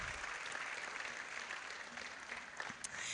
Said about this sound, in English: Can you give a round of applause while I'm talking?